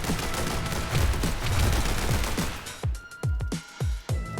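Loud, continuous pistol fire in The Hong Kong Massacre game, overlapping shots that break into several distinct sharp reports with short decaying echoes near the end.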